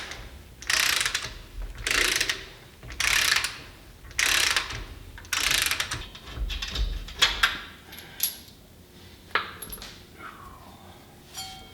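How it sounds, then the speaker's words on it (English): Hand ratchet turning a bolt on a Mack R686ST truck under restoration: about six loud, close bursts of rapid clicking strokes, then quieter scattered clinks and tool handling. "Now I gotta use the ratchet because I left my 3/4 inch impact at work."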